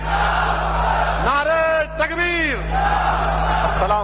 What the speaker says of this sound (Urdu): اور میرے ساتھ نعرہ لگائیے, نعرے تکبیر, نعرے تکبیر